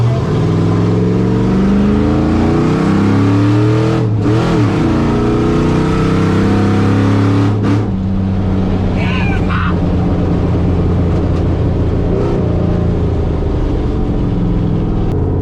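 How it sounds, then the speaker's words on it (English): A cammed 5.3 Chevrolet Silverado pickup doing a burnout: a loud engine roars and revs hard continuously, with a brief dip partway through, the strained mechanical drone staying dense and close throughout. "Obviously, Skid has got what it takes to rip a mean burnout in Cleetus and Cars."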